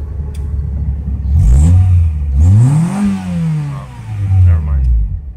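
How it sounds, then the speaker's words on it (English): A Nissan CA6 engine starts and revs up and down several times, loud and close, with rising and falling pitch and a rough mechanical clatter. "CA6 is running and starting also, mind you."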